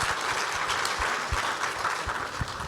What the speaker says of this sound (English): give our stars a big round of applause